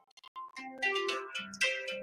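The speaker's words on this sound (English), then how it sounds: "we have a phone call coming in." Electronic phone ringtone for an incoming call, a bright melodic sequence of tones that rises and repeats over about two seconds, clear and close with no talking.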